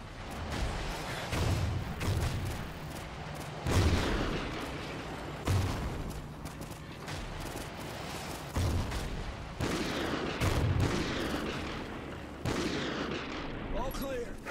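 Remote sniper fire in Call of Duty: Ghosts: heavy, booming shots repeat about every two seconds over steady battle noise, with voices shouting now and then.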